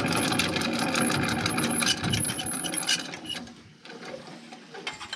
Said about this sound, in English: so just need to get the winch out.